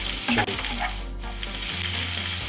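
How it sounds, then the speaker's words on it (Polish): Thinly sliced onions, two medium ones, sizzle and fry in a hot pan while being stirred, with a steady close crackle and occasional scraping clatter of the stirring utensil, no voices. "po wrzuceniu cebulę cały czas mieszamy, by równomiernie się mieszkuła"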